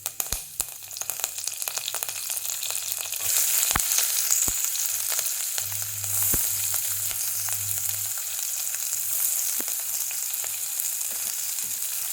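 Cumin seeds fry in hot oil in a pan on a stove, giving a steady, close sizzle with scattered pops and crackles throughout.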